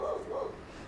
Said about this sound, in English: Darn doggy.